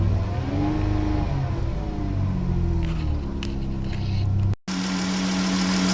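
The gasoline engine of a Honda Clarity plug-in hybrid hums at idle, then rises and falls in pitch as it is revved. A brief cut breaks the sound before it settles into a steady higher drone.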